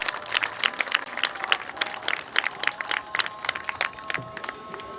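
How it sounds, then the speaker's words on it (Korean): Audience applause at a memorial gathering marking the first anniversary of the Sewol ferry disaster, crisp individual claps, moderately close and fairly sparse, continuing steadily without talk. "박수를 부탁드립니다."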